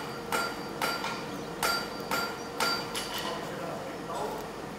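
A blacksmith's cross-peen hammer strikes metal in sharp, ringing blows, about five evenly spaced hits, close by, in a Sheffield forge.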